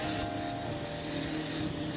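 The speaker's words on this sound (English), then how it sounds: "So now we're just going to rinse off." Pressure-washer spray rinses down a bin lorry with a continuous, dense hiss close by and no voices.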